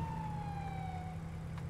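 A faint ambulance siren wail in GTA V on a FiveM roleplay server, one falling tone sweeping slowly downward over a low engine hum, heard at a distance with no talk.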